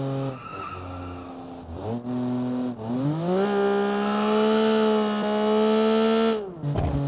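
A Honda truck engine in the BeamNG driving game runs and revs, a steady tonal drone rising and falling with gear changes, with brief dips between shifts.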